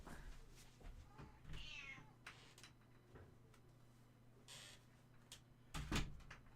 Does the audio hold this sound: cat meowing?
yes